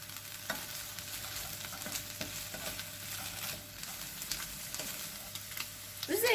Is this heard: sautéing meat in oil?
yes